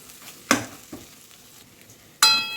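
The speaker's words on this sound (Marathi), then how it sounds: "मी दोन ते तीन मिनिट मस्त मूग आणि मिरची पण याच्यासोबत फ्राय करून घेतलेली आहे" Ground moong and green chili paste fries quietly in a pan, broken by a few distinct scraping stirs of a spoon against the pan, one early and a louder one near the end.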